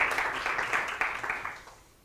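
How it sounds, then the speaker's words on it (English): An audience claps after a tech talk on Ethereum in the browser, a brief burst of many hands that fades out over about two seconds. "We want to clap first."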